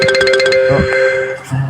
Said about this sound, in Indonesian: Teleponnya, telepon jadul kali.